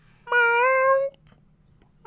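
A voice imitates a cat with one drawn-out, nasal meow that lasts about a second, loud and close against a quiet, faintly humming room.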